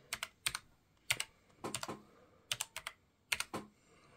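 Fingers tap on a computer keyboard in quick clusters of sharp clicks, with short pauses between bursts, close and fairly quiet against a still background.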